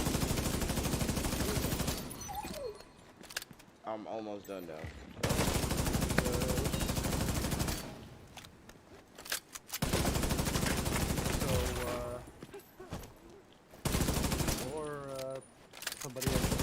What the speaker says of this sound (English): I can't hear you over all this gunfire